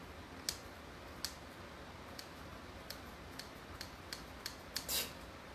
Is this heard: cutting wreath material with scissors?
yes